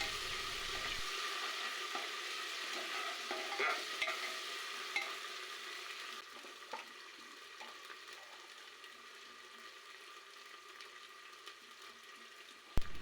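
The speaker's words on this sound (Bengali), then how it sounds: "পেঁয়াজ কুচি দেওয়ার পর একটু হালকা ভেজে নেব ব্রাউন কালার আসার আগ পর্যন্ত" Chopped onion fries in oil with ginger and garlic paste as the base for a spicy beef curry: a continuous bright sizzle with scraping stirs and small clicks, steady and close.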